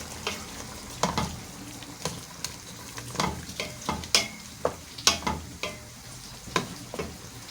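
Chicken cooks in a pot, sizzling softly while a utensil stirs it. Clicks and scrapes against the pot come at an irregular, fairly quick rhythm over a steady frying hiss, close by, with no talking.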